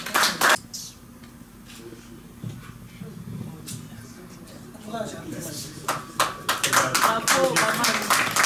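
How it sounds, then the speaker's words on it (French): Scattered claps from an audience at an award presentation honouring a Congolese music star: a short burst at the start, sparse taps in the middle, then a livelier patter near the end, mixed with voices and room noise. "Nous allons applaudir pour lui."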